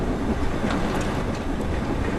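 Steam locomotive in Train Sim World 4 rolling along rails, a steady rumbling run with a continuous clatter of wheels on track throughout, fairly loud and close with no voices.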